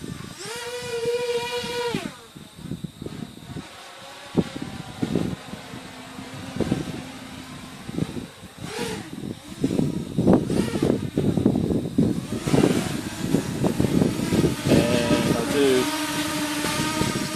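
Quadcopter motors on a drone fitted with a wireless Arduino current sensor, winding up into a loud, full-throttle whirring roar that rises and falls in bursts, with people talking over it at times.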